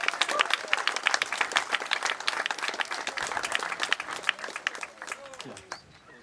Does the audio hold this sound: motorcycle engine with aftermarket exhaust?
no